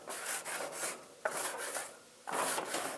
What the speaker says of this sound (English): how could you get an organic grill scrubber? But there it is.